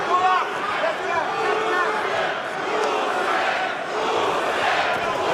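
Dense, steady roar of a boxing arena crowd during a heavyweight fight, continuous shouting and cheering with a commentator's voice underneath.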